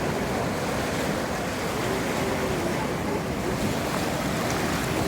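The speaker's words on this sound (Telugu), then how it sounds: "ఈ అలల హోరు" Steady surf rolls and washes continuously at Kanyakumari beach at sunrise, a dense broadband roar of waves with some wind buffeting the microphone, no voices.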